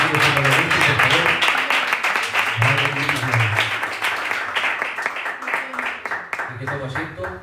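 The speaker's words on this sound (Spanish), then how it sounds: "Un aplauso fuerte para el Señor" A crowd at a religious gathering claps and applauds steadily throughout, while voices talk and call out over the clapping.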